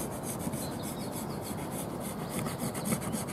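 Hand rasping enlarges a hole in wood on a narrowboat for a Morso Squirrel log burner flue, a close, continuous scraping with rapid repeated back-and-forth strokes.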